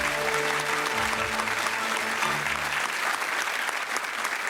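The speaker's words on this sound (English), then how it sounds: "I'll clap for you." Studio audience applause, a full steady wash of clapping with low tonal hum underneath early on, continuing evenly to the end.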